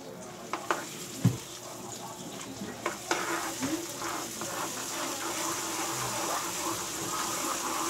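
Thick peanut brittle sugar mixture stirred in a pan, with a few sharp spoon knocks early on over a steady low sizzle and scraping that continues throughout.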